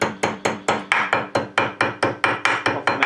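Hammer tapping sheet metal to shape it over a mandrel while making props, a dozen or so close, crisp, evenly spaced strikes in a quick steady rhythm, no talking.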